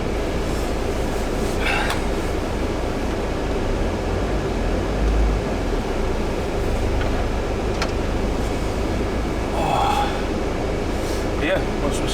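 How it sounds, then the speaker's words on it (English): A camper van idles while its heater defrosts on an Arctic road trip near Kiruna, giving a steady broadband rumble and blower hiss that stays constant, with a few faint clicks and scrapes over it. "so the van is just defrosting"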